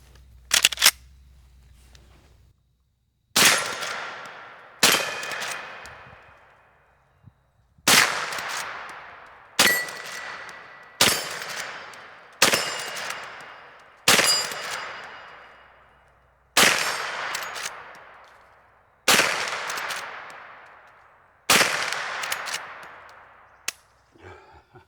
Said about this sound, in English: let's shoot some more steel and jugs